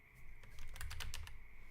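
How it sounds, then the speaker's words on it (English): Rapid clicking of keys on a computer keyboard during a livestream setup, a steady run of close, light taps that bunches into quicker bursts midway through. "I'm typing in the wrong place."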